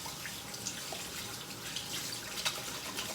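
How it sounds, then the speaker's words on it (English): Kitchen tap running while hands are washed, a steady soft splash of water with small drips and splatters, fairly quiet and without talk. "I'm just going to wash my hands real quick here."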